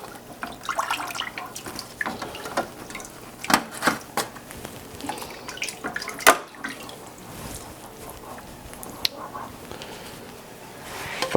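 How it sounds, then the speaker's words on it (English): Tap water runs and splashes while home brewing equipment is rinsed, a steady close wash broken by irregular clatters and knocks of handled gear throughout. "rinse this out as well"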